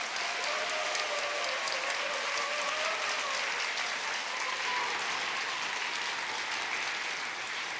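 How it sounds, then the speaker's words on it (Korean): A church congregation in Seoul claps for a preacher at a revival service. The applause is sustained and evenly dense, with some vocal cheering mixed in, and runs at a steady level for several seconds. "박수와 함성으로."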